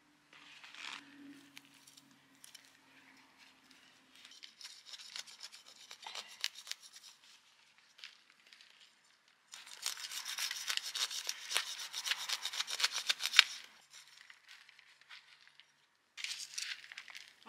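Serrated knife sawing through and dividing the root ball of a potted hydrangea during winter replanting, intermittent raspy scraping strokes, close and fairly quiet, with a longer steady stretch of rough rasping midway, no talk.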